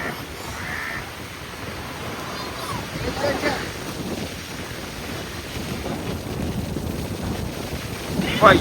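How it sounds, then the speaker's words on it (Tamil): Strong wind buffets the microphone at an outdoor wedding, a continuous loud rumbling roar with gusts swelling and easing, with a voice briefly audible over it. "எடுக்க முடியாது ஃபுல்லா பறக்கும் காத்து"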